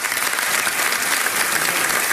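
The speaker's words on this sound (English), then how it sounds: "Give yourself a round of applause." An audience applauds during a talk on Texas school performance, a dense, loud and steady round of clapping from many hands that fills the whole stretch without speech on top.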